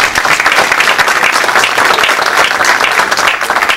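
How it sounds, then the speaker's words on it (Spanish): An audience at an award ceremony honouring engineers for 25 years gives loud, dense, sustained applause, many hands clapping together at full volume without letup. "Fuertes aplausos, por favor."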